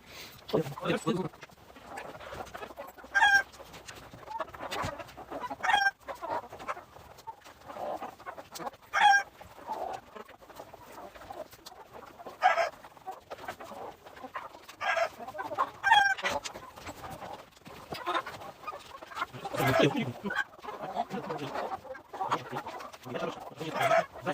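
Laying hens of a backyard flock cluck in scattered bursts with occasional sharper calls, close by, while someone talks throughout.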